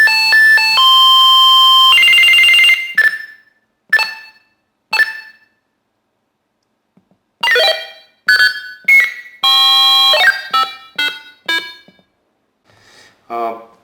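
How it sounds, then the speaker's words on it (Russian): Electronic beeps and chime-like alert tones from a Whistler TRX-1 radio scanner's channel activity alert, a long tone followed by a series of short, separated bleeps and melodic blips, loud and close with silent gaps. "какой-нибудь звук оповещения о том, что есть активность на данном канале"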